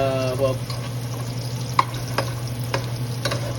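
Garlic and onion frying in a pan for Angus beef skin balbacua, a steady soft sizzle under a low hum, with a few sharp scrapes of a utensil stirring the pan.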